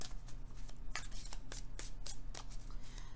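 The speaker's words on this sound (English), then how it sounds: "I'm going to shuffle again" Cards being shuffled in repeated crisp riffling bursts, close up, with a steady low hum underneath and no talking.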